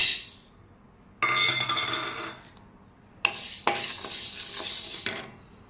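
Urad dal is dry-roasted in a pan and stirred with a utensil, producing two bursts of rattling, scraping grains with a soft rustle, close and fairly loud, separated by short quiet gaps, with no talking.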